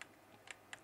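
A few quiet, isolated keystrokes on a computer keyboard, three or four light clicks spaced apart in a short, faint burst.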